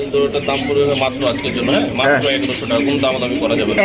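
Pigeons coo repeatedly at a busy pigeon market where barren birds are being sold, their soft calls close and mixed under near-constant talk from sellers and buyers.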